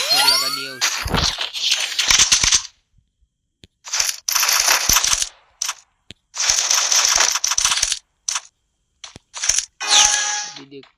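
Free Fire mobile shooter gameplay in a 1v1 lone wolf match, with loud rapid bursts of automatic gunfire and sharp shots, including a headshot, coming in several clusters separated by short pauses.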